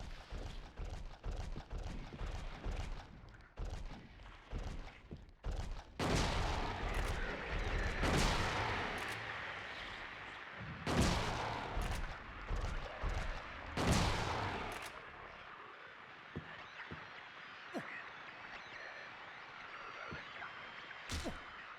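Shotgun blasts in a video game, a rapid volley of loud booming shots with a few heavier bursts, then a quieter spell of scattered sharp reports and faint clatter, no voices.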